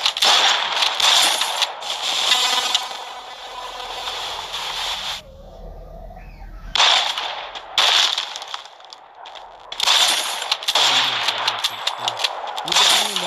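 Gunfire in the video game Free Fire: loud bursts of rapid shots in several clusters, separated by short quieter gaps, with a brief low voice in between.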